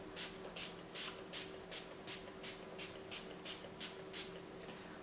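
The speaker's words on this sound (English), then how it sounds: "I'm going to take a little bit of this Urban Decay setting spray" Urban Decay makeup setting spray spritzed onto a face, about ten quick, close hissing bursts in a steady rhythm over a faint background hum.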